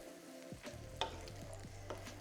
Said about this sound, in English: We'll stir the honey.